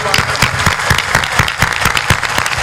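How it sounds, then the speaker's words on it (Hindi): A large audience at a Hindi religious discourse claps loudly and steadily, dense close applause filling the whole moment with rhythmic peaks. "जोर से ताली बजाना सीखो, बजा के दिखाओ एक बार"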